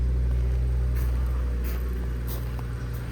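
A completely stock BMW 540i idles with a steady, fairly loud low exhaust rumble close by, holding an even drone throughout.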